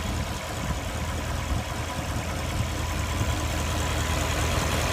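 A Porsche Turbo engine idles with a steady, even rumble from close by, no voices over it.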